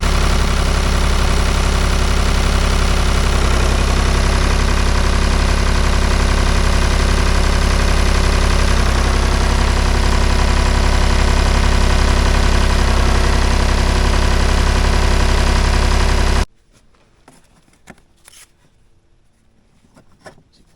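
A Zetor tractor engine idles loud and steady with a low rumbling throb for most of the clip, then cuts off abruptly, leaving near silence.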